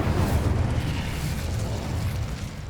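A Confringo fire-blast spell bursts in Hogwarts Legacy, a dense, sustained booming rumble of spell explosions that stays loud and near throughout, with no talking.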